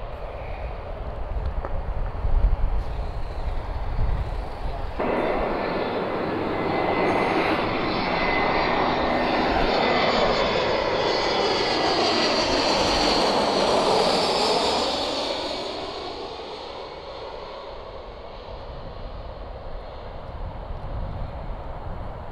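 EasyJet airliner jet engines roar at Malaga Airport, a loud rising and falling sweep as the plane passes close by, with a fading rumble afterward.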